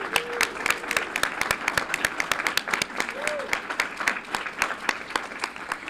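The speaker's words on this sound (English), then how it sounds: "Let's give them a round of applause." Scattered applause at a school board meeting for a group of cadets, sharp individual claps spread through a room, fairly quiet and sparse rather than a dense roar, lasting several seconds with faint background tones.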